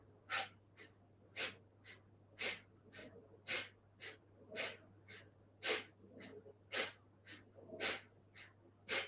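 Deep yoga breathing, slow rhythmic inhales and exhales repeating about a dozen times, close and breathy over a faint steady hum.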